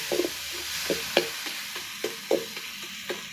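Cooked vegetables being stirred into frying tomato and onion for a carrot poriyal, with a few soft scrapes and light sizzling under an open-air morning setting, no talking.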